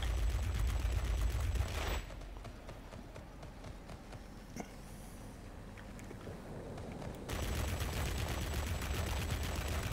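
20mm aircraft cannons firing in the video game World of Warplanes: a dense, loud roar of rapid fire for about two seconds, a quieter gap, then another sustained burst to the end.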